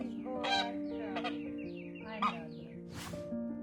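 An overjoyed goose honks as it runs to its friends, several loud, close honks and squawks over a droning background.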